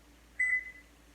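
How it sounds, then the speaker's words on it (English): A kitchen timer gives a short electronic beep while being set, a single bright tone lasting a fraction of a second over quiet room hum, with no talking. "I always set a timer, just in case"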